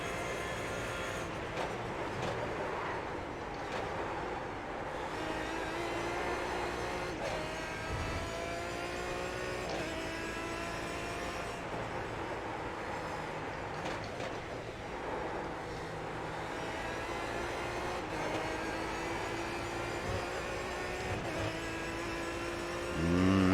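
A Aston Martin DBR9 GT race car driven in iRacing at Silverstone gives a steady, continuous engine note, its pitch climbing and dropping through gear changes and held at close range for the whole stretch with no pauses.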